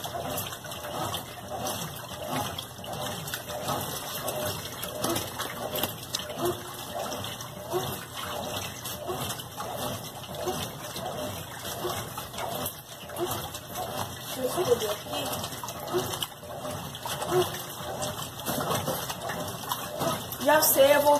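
A Consul CWB12 washing machine churns its load of water, making a steady sloshing, rushing wash with a continuous rhythm that stays at moderate level throughout.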